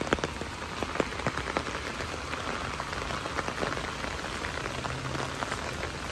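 Steady rain patters on a city street in Baoji, Shaanxi, a dense, even hiss with scattered drip and splash ticks, moderately loud and continuous with no talking.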